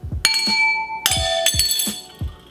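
Hammer blows strike thick, strong glass, each hit ringing out with a bright, sustained glassy clink that rings on; several impacts repeat at a steady pace, loud and close.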